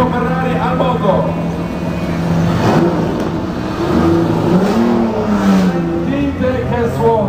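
A vintage Ferrari race car engine revs and roars in bursts, rising and falling in pitch, with voices talking over it, at the start of the Mille Miglia 2011 road race.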